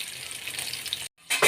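Fish frying in a pan, a steady close sizzle that cuts out briefly and then returns louder with a burst of crackling.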